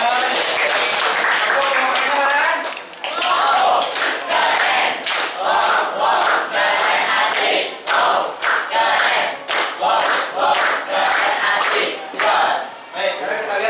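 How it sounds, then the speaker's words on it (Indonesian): A class of students bursts into loud, close applause and cheering, with rapid uneven clapping and shouts in bursts, briefly dipping before resuming. "Oke, tepuk tangan semua."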